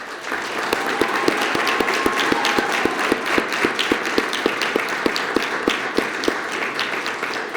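An audience at a police swearing-in ceremony applauds new officers. Steady, dense clapping fills the room, with a few sharper individual claps punctuating it in a fairly regular beat.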